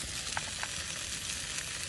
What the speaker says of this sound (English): This is all being cooked on the Ridge Monkey stove and the Ridge Monkey pans.